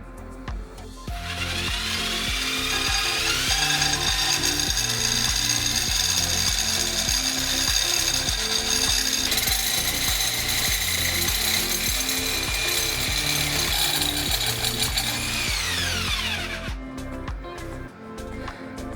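Jigsaw cutting through an interior panel on a 1968 Boston Whaler 13 under restoration, a loud continuous buzzing rasp that holds steady for about fifteen seconds, then winds down and stops.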